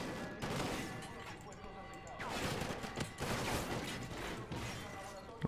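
Gunfire from the Call of Duty: Ghosts campaign mission Clockwork, rapid bursts and crackling volleys repeating throughout, fairly loud and dense, with a voice mixed in at times.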